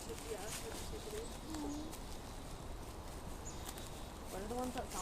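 A mourning dove gives soft, hollow cooing calls outdoors, a few faint phrases near the start and again at the end, with quiet human voices in the background.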